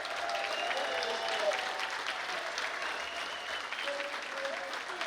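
An audience applauds a Pro Football Hall of Fame class on stage, sustained clapping with some cheering, fairly distant and steady throughout, with a voice faintly underneath.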